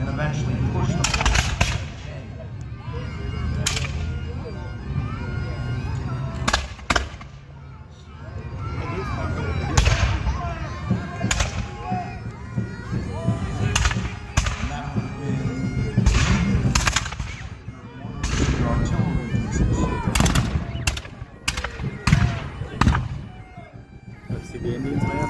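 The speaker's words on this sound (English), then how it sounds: "You can also hear this firing happening as it's all around you." Historical reenactment at Fort Ligonier, with musket volleys and a 12-pounder cannon firing. Repeated sharp blasts ring out at irregular intervals, some near and loud, others distant, amid crowd noise and talk.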